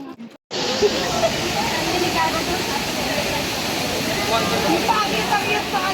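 Bukal Falls in Majayjay, Laguna roars with a steady, dense rush of falling water, close and loud, starting after a brief silent gap and holding constant to the end.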